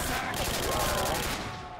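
Rapid gunfire in Call of Duty: World at War, a dense automatic rattle of shots in a quick, steady burst that fades out near the end, with a voice talking over it.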